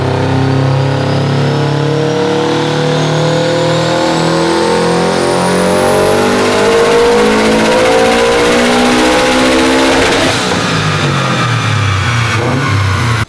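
A fully built Subaru STI revs hard on a dyno pull, the engine note climbing loud and steady for about ten seconds before peaking and dropping off, with a rising turbo whine above it.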